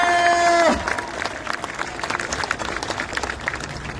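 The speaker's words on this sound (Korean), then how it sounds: "박수 부탁드리겠습니다!" A crowd at a political campaign rally bursts into applause after a brief sustained tone, clapping steadily and densely for several seconds.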